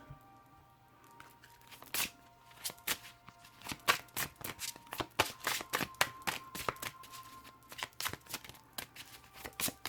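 Tarot cards being shuffled by hand, with crisp, rapid riffling and flicking that build into dense repeated bursts, close and fairly quiet, with no talking.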